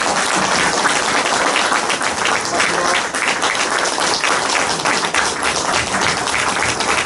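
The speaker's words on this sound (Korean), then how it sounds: "오늘 성실하게 답변에 임해주신 이재환 후보께 다시 한번 큰 박수를 부탁드립니다." Audience applause fills a candidate debate forum for a National Assembly election, a loud, sustained wash of clapping from a large crowd that runs unbroken for about seven seconds.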